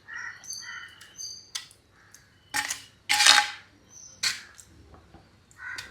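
Pazhaya kanji, leftover rice porridge, stirred in a dish with a spoon, giving scattered metallic clinks and scrapes, a few louder knocks near the middle, with quiet pauses between and a bird calling faintly outside.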